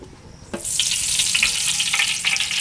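Cold-pressed sesame oil in a pan bursts into loud, close sizzling after a brief quiet moment, then keeps up a dense crackling hiss with occasional pops, no voices.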